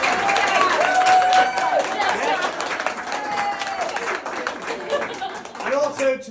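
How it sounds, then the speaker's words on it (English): Wedding guests at a reception applaud the bridesmaids, a dense, sustained round of clapping with cheers and crowd chatter mixed in, loud and close, fading slightly before a voice comes in at the end. "then let's give a round of applause to the beautiful bridesmaids as well."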